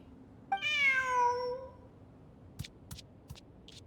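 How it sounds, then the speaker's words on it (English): A cat in the Genshin Impact video game gives one clear, drawn-out meow up close, followed by a few faint, sharp clicks in an otherwise quiet scene. "Who's a good kitty?"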